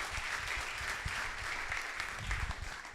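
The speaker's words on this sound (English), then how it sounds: "je vais juste vous demander de l'applaudir très fort" Warm, continuous applause from an audience at a startup growth talk, a thick wash of clapping that holds steady with a few louder swells.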